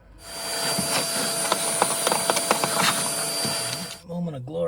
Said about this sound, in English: I'll bring the vacuum over and clean all that crap up